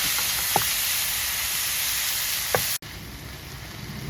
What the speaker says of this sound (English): As you can see, the meat is cooking